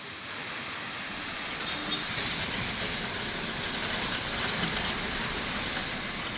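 Steady rain falls over Mumbai on New Year's morning, a dense, even hiss of drops on surfaces that continues unbroken and moderately loud throughout.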